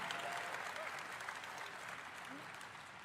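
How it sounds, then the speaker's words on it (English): A large convention-hall audience at BlizzCon 2023 applauds during an Overwatch presentation, a dense, steady wash of clapping that holds at an even level for the whole stretch. "Applause."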